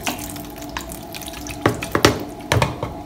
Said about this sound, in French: on est toujours dans le processus de mettre de l'eau